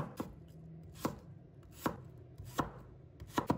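A knife chopping a peeled potato into one-centimetre dice on a cutting board: five or six crisp, evenly spaced knocks, close and clear against a quiet kitchen.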